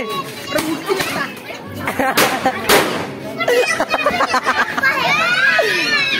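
A few sharp firecracker bangs crack out amid children shouting and chattering at a New Year celebration. A continuous din of voices fills the rest.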